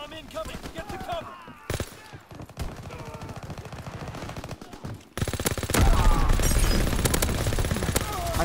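Rapid gunfire fills a Call of Duty WW2 firefight, dense automatic bursts rattling almost continuously and growing louder and harsher in the second half as the player comes under fire from several enemies.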